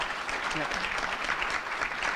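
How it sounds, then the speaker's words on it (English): Steady applause from an audience at a community gathering after several local business people are introduced, a dense even wash of clapping that fills the whole stretch with a faint voice underneath. "Let's give them a round of applause."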